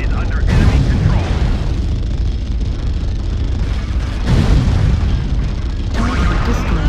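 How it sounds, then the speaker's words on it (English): Artillery strike explosions in a video game: loud, heavy booms with rumbling bursts rolling in waves, a big blast near the start and again around the middle and end, dense and close throughout. "Artillery strike activated"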